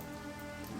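Steady rain falling in Minecraft, a dense continuous hiss of drops that stays even and fairly faint throughout, with no voices.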